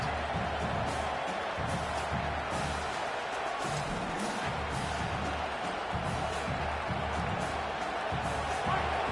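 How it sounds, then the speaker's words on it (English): A packed stadium crowd at a college football game against Texas A&M roars in a loud, continuous wash of cheering that fills the whole stretch without a break. "This crowd, full throat, splitting the eardrums"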